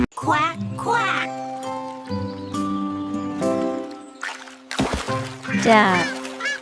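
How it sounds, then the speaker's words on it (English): Cartoon duck quacking in a farm animals cartoon for toddlers, with a run of nasal quacks over a bright musical background. "Duck."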